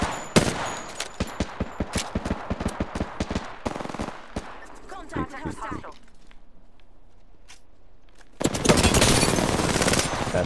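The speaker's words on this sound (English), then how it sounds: "I am taking fire, friends" Apex Legends gunfire rings out in rapid automatic bursts, loud and close, with regular sharp shots for the first several seconds, then quieter footsteps and game sounds before a heavy burst of fire at the end; speech is tagged but no words are transcribed.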